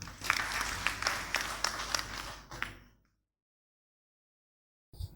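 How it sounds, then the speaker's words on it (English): A crowd applauds at a church gathering, a dense patter of claps with a few sharp louder ones for about two and a half seconds before fading out into silence, then a brief return of sound at the very end. "Give him a round of applause"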